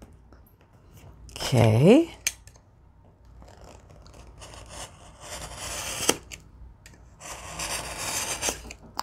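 Side edges of a tiny paper junk journal trimmed by hand, giving crisp crunchy cutting and rubbing bursts close to the microphone, with a person briefly speaking and making a short vocal sound early on.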